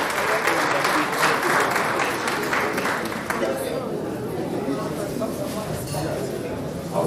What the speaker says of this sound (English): You guys can clap for that.